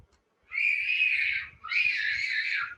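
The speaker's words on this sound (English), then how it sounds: "Who is that screaming?" Two long, high-pitched screams ring out one after the other, fairly close and loud, with a short pause between them.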